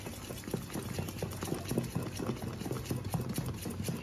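Idli batter mixed with baking soda and a spoonful of water is whisked briskly in a bowl, making a dense, wet, continuous patter close up.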